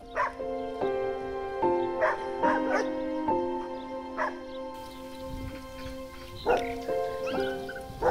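Stray dogs in woodland beside the Beykoz municipal dog rehabilitation center in Istanbul yip, whine and howl in repeated overlapping bursts, fairly close and moderately loud, continuing throughout.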